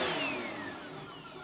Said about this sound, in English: So, we're vacuuming